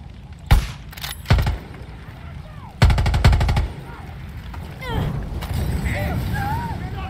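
Sniper rifle fire in the video game Far Cry 6: sharp shots ring out singly and in quick clusters, followed by a lower rumble of game noise with voices in the background.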